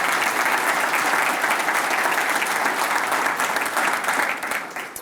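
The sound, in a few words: applause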